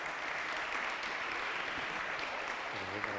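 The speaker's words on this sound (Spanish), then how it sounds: "Claro que sí, un aplauso" Steady crowd applause at a youth awards gala, with dense, even clapping throughout, heard at a moderate distance with no talking over it.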